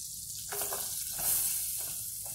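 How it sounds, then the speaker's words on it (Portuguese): Chopped onion fries in a spoonful of butter, giving a continuous close sizzle with a few soft stirring scrapes breaking through the hiss. "uma colher de sopa bem cheia de manteiga ou margarina, adicionar uma cebola grande picadinha"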